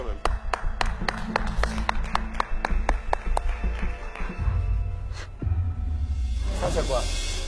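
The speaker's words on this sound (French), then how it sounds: "On vous applaudit quand même." A small group claps for contestants at a televised gourmet cooking challenge, a run of sharp, fairly close hand claps in quick rhythm over steady background murmur and talk, thinning out midway as voices take over.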